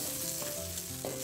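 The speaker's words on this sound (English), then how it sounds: "All you got to do with this is have it simmer a little bit" A cream sauce simmers and sizzles in a pan, a steady close bubbling hiss that continues without pause and with no talking.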